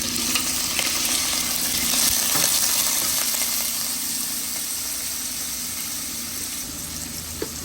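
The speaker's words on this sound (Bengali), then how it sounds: "চিংড়ি মাছগুলো একটু ভেজে নেবে।" Shrimp fry in a pan for a Bengali jute leaf and felon dal dish, giving a steady loud sizzle with crackling spatter and occasional stirring scrapes, close up and without talk.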